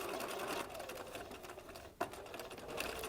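A sewing machine runs steadily, stitching a zipper into flat fabric, a continuous fast mechanical whir with one brief sharp click near the end.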